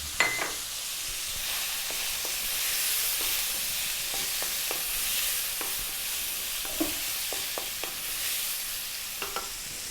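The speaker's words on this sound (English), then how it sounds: "I'm now going to drop in our garlic and our ginger, 1 tablespoon each of those" Garlic and ginger, a tablespoon each, hiss and sizzle steadily in a hot pan with seared pork, with a few scattered clicks of stirring against the pan; no one talks.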